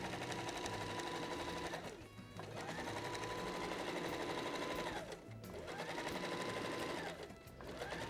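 Sewing machine stitching a zipper into a watermelon-themed fabric pouch, running in long continuous bursts with two brief pauses, close and steady with no talk.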